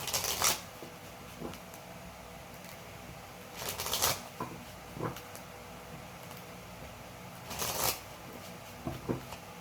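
Tarot cards being shuffled and drawn in a few soft, brief bursts of riffling and sliding, spaced several seconds apart over a quiet room background.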